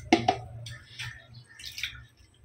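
Rice is rinsed in water by hand: a couple of sharp splashes, then scattered drips and soft sloshing that trail off, close and fairly quiet.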